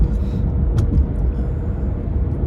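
A 2015 Alpina B6 Gran Coupe engine pulls at part throttle up a highway on-ramp in Detroit, a deep continuous rumble with road noise heard from inside the cabin, steady and fairly loud without speech.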